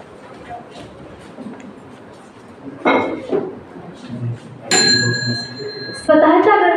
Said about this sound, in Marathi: बेल वाजल्यानंतर स्टार्ट